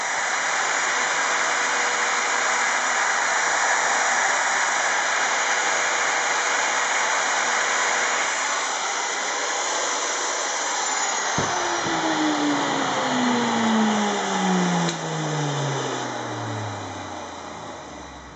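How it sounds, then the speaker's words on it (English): A drill press fitted with a Forstner bit bores out the wood of a Les Paul guitar body, producing a loud, steady motor whine and grinding hiss throughout. Near the end the pitch drops as the machine winds down. "off to the drill press with a Forstner bit. We're going to hog out the majority of that stuff"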